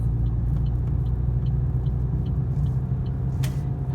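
A car accelerating while changing lanes during a driving lesson, with a steady, close engine rumble throughout, a few faint ticks and one short sharp hiss near the end.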